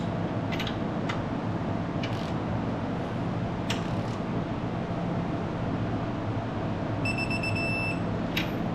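A digital torque wrench set to 70 foot-pounds on a 2015 Kia Sedona rear wheel bearing job gives a steady electronic beep tone near the end. Scattered faint clicks and a constant background hum come earlier.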